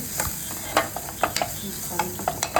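A spatula stirs and sautés ingredients in a pan for a country chicken soup, making soft scraping strokes every half second or so over a low, steady sizzle, close and fairly quiet, with no talking.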